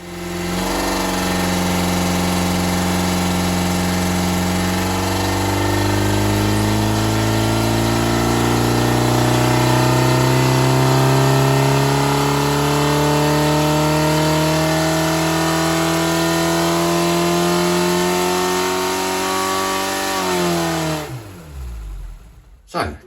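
Ford Pinto engine with a cast iron Cortina exhaust manifold revving on a dyno, a loud, steady drone climbing slowly in pitch for about twenty seconds before cutting off abruptly.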